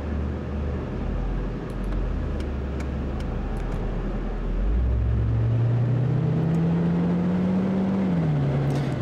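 Range Rover Supercharged, a big 3-ton SUV in City Car Driving, with a steady low engine drone while driving that rises in pitch as it accelerates, then eases off slightly near the end, close and without voices.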